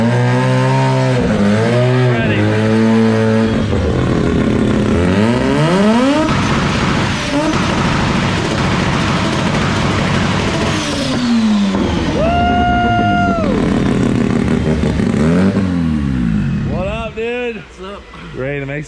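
A rotary-engine swapped truck drives and revs, its engine note rising and falling in repeated sweeping pulls, loud and close, with people talking over it throughout.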